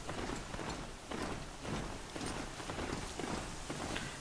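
Horse hooves clip-clop steadily in Horizon Zero Dawn as the mount runs on autopilot over steep terrain, a continuous rhythmic patter of hoofbeats mixed with a rain-like hiss, with no talking over it.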